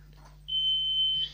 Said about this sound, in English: Opto smoke, so the optical smoke detector for zone 2.